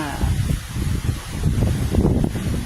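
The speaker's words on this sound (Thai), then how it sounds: "ลมก็พัดมา" Strong gusty wind blows outdoors under a darkening rain-cloud sky, a broad continuous rushing roar with buffeting microphone noise that swells and eases throughout.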